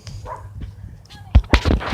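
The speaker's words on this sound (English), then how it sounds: "sorry, there's a dog" A dog barks several times at close range, sharp loud bursts in the second half following quieter sounds, with people talking around it while playing a game at home.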